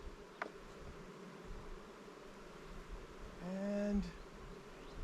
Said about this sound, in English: Most likely an agitated buzz now that I think about it.